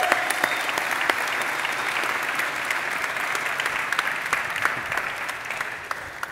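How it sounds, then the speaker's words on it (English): Audience applause for panelists coming to the stage at a conference panel, a steady sustained wash of clapping with sharp individual claps standing out, no talk over it. "Let's give them a round of applause."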